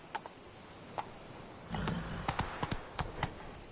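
Hooves clip-clop on the ground in The Witcher 3 as a horse is urged faster, a few scattered footfalls giving way to a steadier run of hoof strikes.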